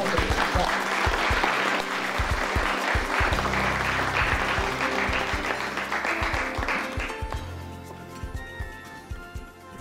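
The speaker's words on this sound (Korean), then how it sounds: "여러분 큰 박수로 부탁드리겠습니다" Audience applause welcoming a lecturer at a Korean public broadcast talk by the unification minister, a dense, sustained round of clapping from a large room that gradually thins out toward the end.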